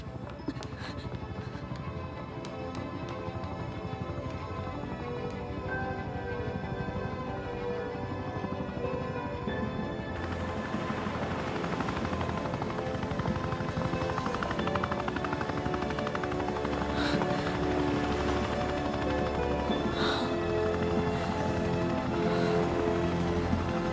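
A steady, continuous US Coast Guard helicopter drone with a whirring rotor hum holds at moderate volume throughout, growing slightly brighter partway through.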